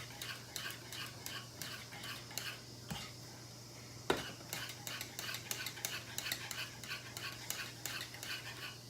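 A whisk beats tempered key lime or coconut cream pie filling in a pan, giving a steady, fast rhythmic ticking and scraping close by, fairly quiet, with a low hum underneath and a sharp knock partway through.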